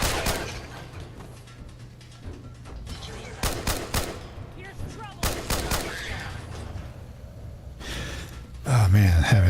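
Gunfire in the modded Fallout 4 game, sharp bursts of shots clustered in loud volleys with quiet gaps between them, under a player's gasps and speech.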